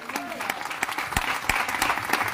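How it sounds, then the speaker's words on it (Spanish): Church congregation breaking into loud applause during a sermon, with dense hand clapping and some sharp individual claps, and voices faintly mixed in. "Den un aplauso al Señor, por favor"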